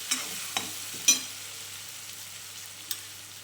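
Food frying and roasting in a pan over medium gas while potato vada filling is made, a faint steady sizzle with a few short stirring clanks, close and quiet.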